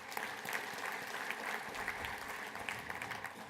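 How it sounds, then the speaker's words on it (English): Audience applause for a legislative committee at a transit association gathering, a soft, steady wash of many hands clapping, distant and continuous throughout. "let's also give Jeff and that Legislative Committee a round of applause as well"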